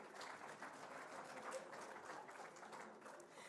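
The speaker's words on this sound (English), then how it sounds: "Clap hands before I tell you." An audience at a ceremony releasing 2024 NSSCO and NSSCAS exam results claps for a teachers' prize category, a faint, even patter of hands heard from a distance.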